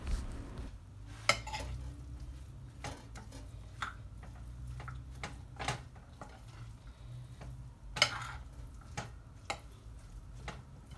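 A utensil stirs vegan tuna salad dressed with olive oil in a bowl, giving soft, quiet, irregular clicks and scrapes, with a few sharper taps against a faint background.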